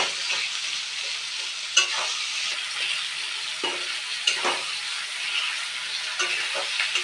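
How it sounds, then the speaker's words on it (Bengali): Spice paste with tomatoes, green chillies and oil being stir-fried for a mutton curry, sizzling steadily with repeated scraping stirs of the spoon close by, no voices. "এবার ভালো করে মশলাটাকে কষিয়ে নেব।"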